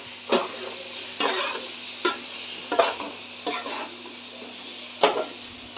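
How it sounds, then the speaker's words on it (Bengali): Rice is lightly fried in a pan with whole garam masala spices and bay leaf: a faint steady sizzle broken by about six distinct scraping stirs of a spatula against the pan, close by, no talking. "চালটা একটু হালকা ভেজে নেব"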